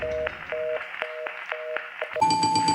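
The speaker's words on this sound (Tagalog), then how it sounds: "Busy tone." A steady telephone busy tone pulses on and off in even, rapid beeps, clear and close, then cuts to a different sustained tone.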